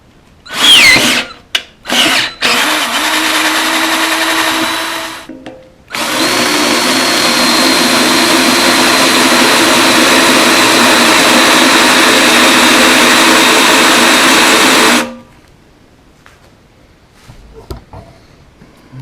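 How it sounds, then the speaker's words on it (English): A power drill bores out and enlarges the center hole of a steel wheel for a forge, with short bursts followed by a long, loud, steady whine of about nine seconds, then quiet. "the next step is to start drilling out the center hole"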